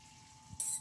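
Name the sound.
eggs poured into hot buttered pan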